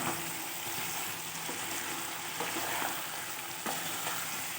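Small mola fish chachchari sizzles steadily in a hot pan, with soft occasional clicks and scrapes of stirring over the continuous frying hiss.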